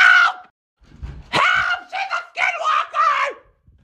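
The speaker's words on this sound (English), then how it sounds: "That's not even a bark. That's a scream." A dog lets out a loud, drawn-out scream, followed by a string of rapid, strained yelping cries, close and harsh.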